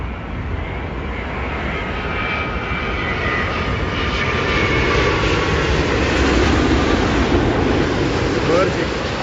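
A Virgin America airliner landing at London Heathrow, a steady broad jet engine roar that holds for the whole stretch and swells slightly in the later part, with a faint sweeping whine on top.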